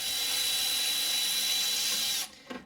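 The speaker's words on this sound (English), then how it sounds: "I'm just going to use my electric ratchet and we're going to remove it" An electric ratchet spins out a bolt on a Honda Odyssey, a loud steady high-pitched whir close by for about two seconds, then it stops and a few faint clicks follow.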